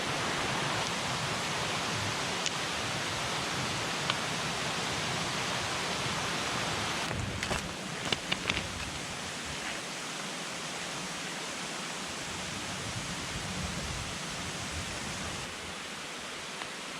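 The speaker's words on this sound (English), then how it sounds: "we pass this small creek that right now is running pretty good since we had all this rain here last night and this morning" A small forest creek swollen by overnight and morning rain rushes steadily in a broad, continuous wash of water noise, close by and unbroken, with a few faint knocks partway through.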